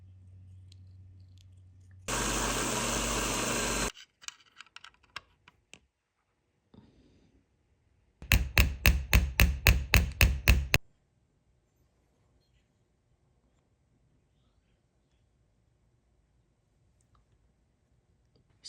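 Metal being hammered on an anvil to shape a radius while restoring a Seth Thomas ship's bell clock; a loud burst of about eight rapid, evenly spaced ringing blows, with a separate harsh noise burst earlier and quiet handling sounds between.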